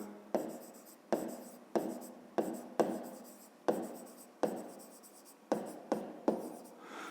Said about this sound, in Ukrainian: Тепер кути треба записати трикутника. Пишемо кути трикутника.